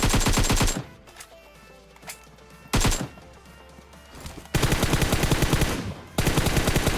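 Rapid automatic AKM gunfire in PUBG Mobile rattles in loud bursts, four volleys separated by quieter gaps with faint background clatter and distant shots.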